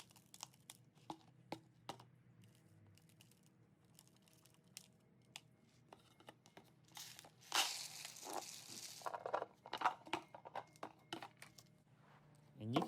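Plastic bucket chicken feeder handled at close range, with scattered knocks, crinkles and scraping clicks plus a louder rustling burst midway.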